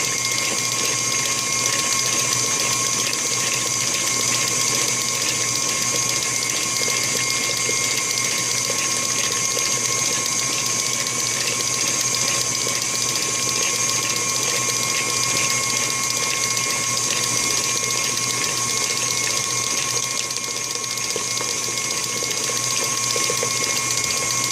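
An electric mixer beats egg yolks into Dominican cake batter, giving a steady, loud mechanical whir with a rattling, gear-like texture that holds unbroken and without talk throughout.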